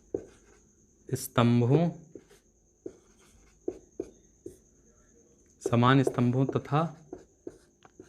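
Pen strokes on paper while solving a class 10 maths problem, short scratchy bursts spaced through the clip between stretches of someone speaking Hindi, with a faint steady background tone.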